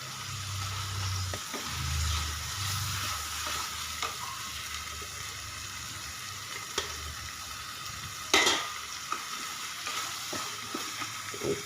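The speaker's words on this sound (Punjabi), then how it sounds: "ਇਸ ਨੂੰ ਵੀ ਅੱਛੀ ਤਰ੍ਹਾਂ ਪਕਾ ਲਓ ਤੇ ਨਾਲ ਹੀ ਹੁਣ ਇਹਦੇ ਵਿੱਚ ਮੈਂ ਐਡ ਕਰ ਦਾਂਗੀ ਪਨੀਰ" Paneer frying and being stirred in a pan, a soft sizzle running throughout with scraping stirs and occasional utensil knocks, one louder clatter midway, close and fairly quiet with no talk.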